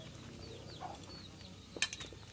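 A mother hen clucks softly in a backyard garden. A few faint, scattered calls are followed by a brief cluster of sharper notes near the end, all distant and quiet.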